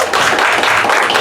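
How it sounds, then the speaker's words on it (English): A theater audience at an RPG-13 live show claps for volunteer Abby. It is a brief, loud, continuous burst of many hands clapping, close and steady throughout. "Round of applause for Abby"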